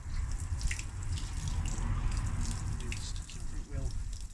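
Water rinsing out of a Virago 535 motorcycle fuel tank after vinegar rust treatment, a steady close splashing and trickling pour with some dripping, continuous throughout.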